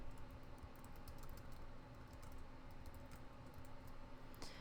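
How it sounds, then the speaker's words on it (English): Quiet typing on a computer keyboard, a light run of key clicks in an irregular rhythm over a low room hum, ending in one sharper click, with no speech. "And I can type anything I want."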